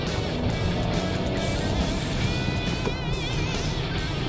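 An Audi Q8 55 TFSI coupe SUV is driven sportily, filling the cabin with a steady, dense roar of engine and road noise with slight rising tonal whine, constant and close throughout.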